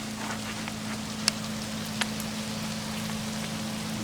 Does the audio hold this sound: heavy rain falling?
yes